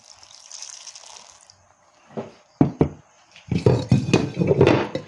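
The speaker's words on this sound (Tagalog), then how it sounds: "Lagyan natin ng tubig" Water pours and splashes into a cooking pot in bursts, with a faint hiss before it and a louder, gushing stretch at the end.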